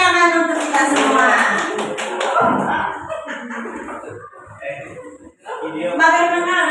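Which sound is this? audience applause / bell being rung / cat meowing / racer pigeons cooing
audience applause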